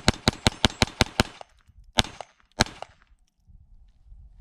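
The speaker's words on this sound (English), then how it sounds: "so last mag, let's do a mag dump" Rapid magazine dump from a Browning Buck Mark .22 LR pistol: about eight sharp, evenly spaced shots fired in quick succession, then two or three slower final shots with short ringing tails before quiet.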